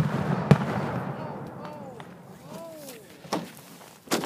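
An 8-inch cato ball firework shell launching with a sharp thump, followed by sputtering, crackling bursts and a couple of loud reports at a distance, with people talking nearby.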